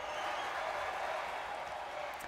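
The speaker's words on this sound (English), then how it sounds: "let's get a round of applause." Faint, steady crowd applause rolls on continuously in a stadium in the video game Pokémon Sword, with no voices over it.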